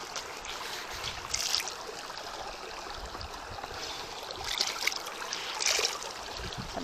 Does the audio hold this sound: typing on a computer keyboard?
no